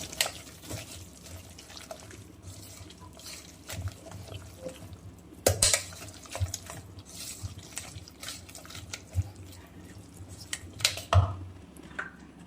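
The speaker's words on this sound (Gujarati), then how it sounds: "આ ગાજર, કેપ્સિકમ ને આદુ મરચીની પેસ્ટ આ રીતે આપણે મિક્સ કરી લેવાનું." Grated carrot, capsicum and ginger-chilli paste folded into a semolina dhokla batter, with wet squelching and a spoon clicking and scraping against the bowl in an uneven rhythm, close by.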